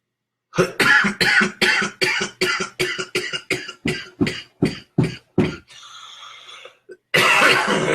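A man coughs hard after smoking a hookah, about a dozen harsh coughs in a rapid series that gradually spaces out, followed by a wheezy breath and a loud exhale, close to the listener.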